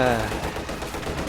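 Enemy gunfire in a real-time tactics game, a dense rattle of shots mixed with battle noise over a brief moment, with a voice heard alongside.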